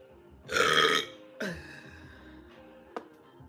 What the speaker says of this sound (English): Those burps are not tens.